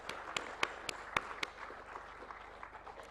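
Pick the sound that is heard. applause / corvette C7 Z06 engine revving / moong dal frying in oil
applause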